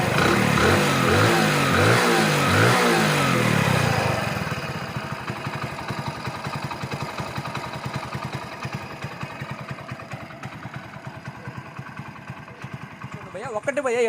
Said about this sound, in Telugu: ఒకసారి ఇంజిన్ బీటింగ్ అని చూడండి. ఇంజిన్ బీటింగ్ అయితే చెక్ చేయండి.